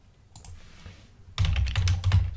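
Keystrokes on a computer keyboard while entering a Google search, a brief quiet pause of scattered clicks, then a dense, steady burst of fast typing, close and clear with no talking.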